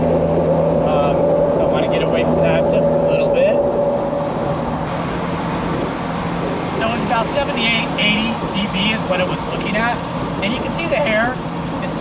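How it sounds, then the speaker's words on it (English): Heavy road noise inside a Jeep Wrangler with a bimini sunshade at about 75 mph on the freeway, a loud constant roar and wind rush with passing traffic, while a person talks over it. "And I do have a lot of road noise."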